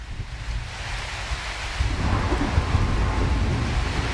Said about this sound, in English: I've got the rain effects, graphics set to maximum